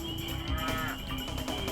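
Cows moo in the video game Spyro: Enter the Dragonfly, a low drawn-out bovine call over a steady hum of game music and ambience, with no voices.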